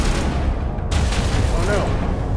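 Shotgun blasts from Mass Effect Legendary Edition gameplay, a dense roar of gunfire and booming impacts running throughout the brief stretch, loud and close, with game voices mixed in.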